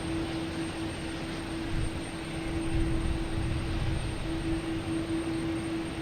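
An American Airlines Embraer E175 jet arriving at Boston Logan makes a steady, distant engine rumble that rises slightly midway, with a constant high whine over it and no voices.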